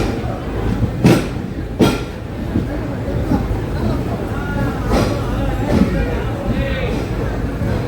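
The 16053 Tirupathi Express rumbles through busy Renigunta station with low clattering wheel noise and metallic clinks, while voices chatter nearby over the steady rail roar.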